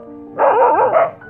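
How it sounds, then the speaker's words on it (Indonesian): Dogs howling and answering one another outdoors at night in a village, heard as a single loud, wavering howl lasting about a second, fairly close and alone. "di luar, anjing melolong saling bersahutan"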